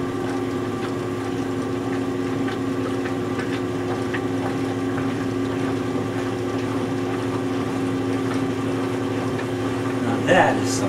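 A 1996 Maytag washer runs its agitator with a steady, humming motor drone that holds without a break. A brief clatter comes near the end.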